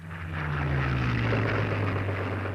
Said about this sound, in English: our aircraft had a much more continuous sound.